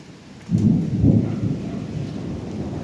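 Thunder rolling during a rainy storm in the countryside, a low rumbling swell that rises and lingers under steady rain noise.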